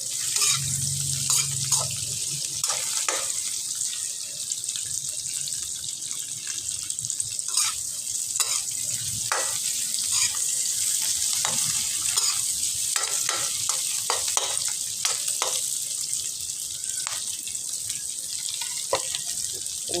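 Fish frying in a pan for Filipino dinengdeng, a steady broad sizzle running the whole time with stirring clatter and small taps and drips over it, close and even in loudness.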